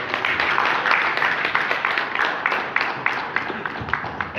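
An audience at a political stakeholders' interactive session applauds a speaker, producing dense, continuous clapping from a room full of people at a moderate, steady level with no talk over it.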